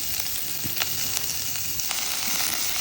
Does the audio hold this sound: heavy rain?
no